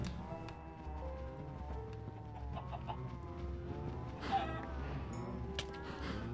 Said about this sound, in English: Don't kill the chickens.